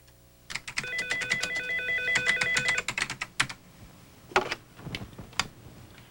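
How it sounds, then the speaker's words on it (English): At a Palm Beach County student crime tip line, a phone's electronic warble rings under rapid keyboard typing, followed by a few scattered clicks and taps. "The phone has been ringing double time at Palm Beach County Student Crime Stoppers"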